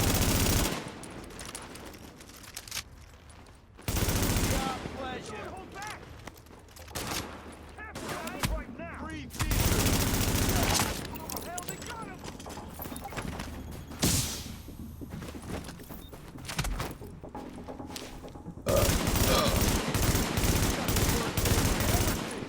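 Bursts of automatic gunfire and rapid shots from The Division video game, loud and repeated in clusters with short pauses between volleys.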